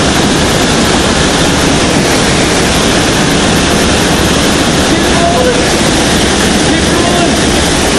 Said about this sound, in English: we're at the waterfalls